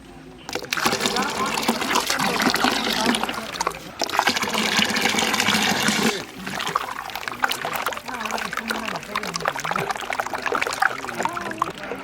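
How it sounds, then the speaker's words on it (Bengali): A little water poured into a pan of Bengali doi sorshe katla fish curry, a loud close splashing pour that stops and resumes, then trails off into softer trickling and bubbling. "সামান্য পরিমাণে জল দেবো আমরা।"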